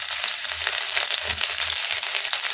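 Chopped garlic frying in hot oil in a pan for chicken kosha, giving a steady, close sizzle with soft low knocks of stirring throughout.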